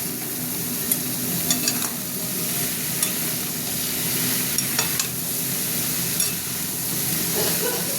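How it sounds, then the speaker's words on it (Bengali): Vegetables and spices fry in a hot pan with a steady sizzle, while a utensil scrapes and stirs at intervals and occasionally clinks against the metal. "অনেকটাই ভাজা ভাজা হয়ে গেল, মশলা আর সবজিগুলো দিয়ে দিলাম। সবজিগুলো এবার ভাজবো।"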